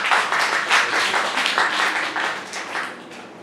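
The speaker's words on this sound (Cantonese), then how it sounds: "我俾掌聲佢哋" A roomful of people applauding students in a classroom, with steady dense clapping that continues throughout and tapers slightly at the end.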